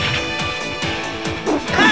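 Virtua Fighter 5 fighting game at a tournament match: several sharp smashing impacts from a character throw, closely spaced and loud, with a crowd and game noise going on behind them.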